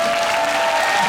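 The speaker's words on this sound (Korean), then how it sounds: "박수해주세요." An audience at an anti-Japanese commemorative concert held at Chodae Girls' High School gives a pianist a loud, dense burst of applause, steady and close throughout.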